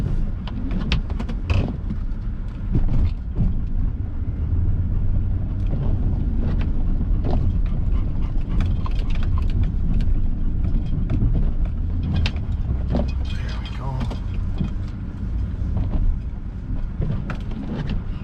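Pickup truck with a V-plow plowing snow in Minocqua, Wisconsin: a steady low engine drone with scraping, rumbling bursts as the blade pushes snow, heard from inside the cab, continuous and fairly loud.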